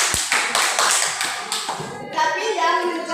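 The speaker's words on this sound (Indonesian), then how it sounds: "tepuk tangan untuk kita semua" An audience at an Indonesian class presentation claps and taps hands in a brief burst, followed by a murmur of voices as it dies down.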